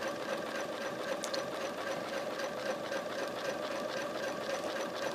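A sewing machine stitches quilting lines around feathers in a fast, even mechanical rhythm, close and steady with no talk.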